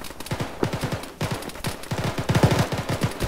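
Sustained gunfire rattles through a military shooter game, with rapid bursts of automatic fire and scattered single shots, loud and close throughout, with no talking over it.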